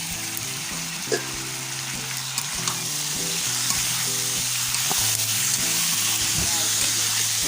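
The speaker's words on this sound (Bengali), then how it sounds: "এখন শুধু ভেজে নিচ্ছি, মটরগুলোকেও ভেজে নেবো একটু।" Potatoes and peas fry in a pan with a steady, close sizzle that holds throughout, with a few stirring bumps and a low tonal hum running underneath.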